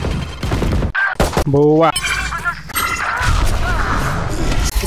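A grenade explodes in a Valorant match, a loud burst of crashing, crackling blasts heard amid other game effects while a player shouts and talks over it.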